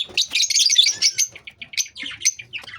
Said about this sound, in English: Lovebirds. Different color of lovebirds.